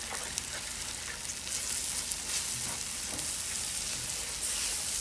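Onions with coriander powder frying in a pan for a Jamaican okra dish, a steady, close, hissing sizzle that holds throughout with faint stirring ticks and no voices.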